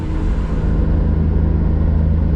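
A supercharged Toyota Supra engine held at about 4,000 RPM gives a continuous loud, low rumble with a steady droning tone, close and without a break. Nobody talks.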